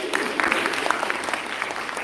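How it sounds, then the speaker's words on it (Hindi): An audience claps at a Hindi comedy poetry show, a dense, lively burst of applause from a crowd, continuous and fairly close throughout. "फिर ताली बजाई, आप भी बजा दो।"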